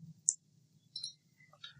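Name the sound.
computer mouse clicking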